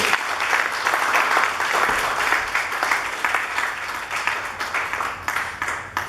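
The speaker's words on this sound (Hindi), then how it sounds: "लालपुरा साहब एक बार जोरदार तालियों से स्वागत करेंगे" An audience applauds at a New Delhi event, welcoming Lalpura Sahab. The clapping is dense and sustained, fairly loud and steady for the whole stretch, easing slightly near the end.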